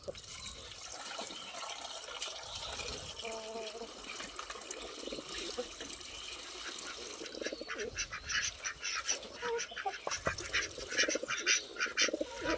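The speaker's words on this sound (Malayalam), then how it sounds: "ഇത് ഇപ്പോൾ എത്തിച്ചു കൊടുക്കുന്നത് നമുക്ക് ഗിരിരാജ കോഴികൾക്കാണ്." Giriraja chickens are fed in the evening: close bird calls and clucking over splashing water and scraping, growing busier and more choppy toward the end.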